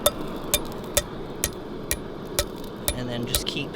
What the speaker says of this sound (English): just use the hammer to really just brush this corner over